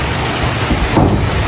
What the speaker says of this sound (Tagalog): Pero lumakas na yung ulan.